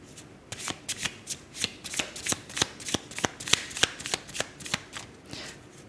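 Tarot cards shuffled by hand in a rapid run of crisp riffling snaps, about a dozen bursts in a loose rhythm, close and clear with no voice.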